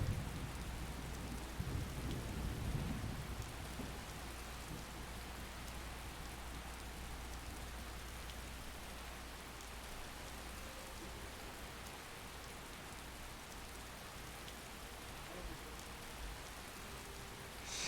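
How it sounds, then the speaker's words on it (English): Steady, even rain falls in a video game, a constant close hiss with a low rumble underneath that is heaviest in the first few seconds, with no voices. "Shirtless in the rain"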